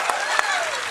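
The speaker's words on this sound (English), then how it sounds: "Round of applause for Ben Starr." Audience at a PAX East storytime panel bursts into a short round of applause with scattered claps, heard briefly and fairly loud.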